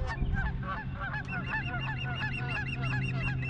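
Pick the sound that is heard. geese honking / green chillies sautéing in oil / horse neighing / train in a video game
geese honking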